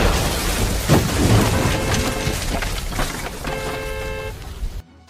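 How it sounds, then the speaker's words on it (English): Loud thunderstorm with steady heavy rain and low thunder rumbling throughout, plus a brief crack near the start and two short stretches of horn-like tones, ending abruptly. "When a thunderstorm begins, it is best to go home."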